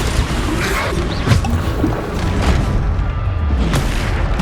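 Bombarda spell blasts in Hogwarts Legacy, a dense, loud rumbling boom texture that stays heavy and continuous throughout, with muffled impacts rolling one into the next.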